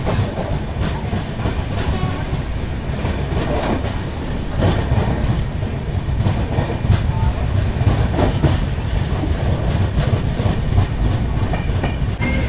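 A Mangalore–Mumbai CSMT superfast express train runs through Murudeshwar station on the loop line, a steady loud rumble of wheels and carriages with rhythmic clatter and faint squeals throughout.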